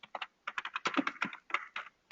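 Keys on a computer keyboard clack in quick irregular bursts with short pauses, close and crisp, with no talking.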